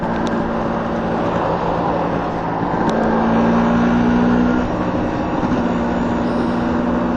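Steady close engine drone of a two-stroke motorcycle fitted with a big bore kit while riding, a continuous smooth hum with a slight pitch rise midway and no voices.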